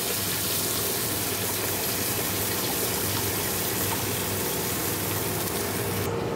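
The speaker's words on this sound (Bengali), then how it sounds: "এবার জল দিয়ে দেবো।" Water poured into a pan of browned fish curry with potatoes, a steady gushing pour running loud and continuous for about six seconds, with no talk.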